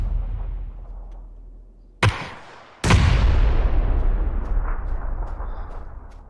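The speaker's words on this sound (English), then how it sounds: "Throws an uncooked grenade." A grenade bursts in a military shooter video game, a sharp loud blast followed moments later by a second heavier explosion whose rumbling roar trails off slowly.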